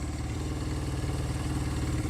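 A classic Honda SL175 twin-cylinder enduro motorcycle with a metal tank runs close by, its engine giving a steady, even throb with a slight clatter and no voices.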